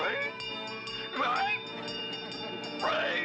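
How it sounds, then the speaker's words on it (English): An approaching train in a Scooby-Doo cartoon sounds in brief bursts of whistle or horn over a busy background with music and voices, swelling at the start, middle and end of the short stretch. "Train coming?"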